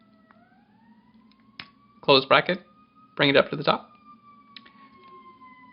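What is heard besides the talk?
ambulance siren passing outside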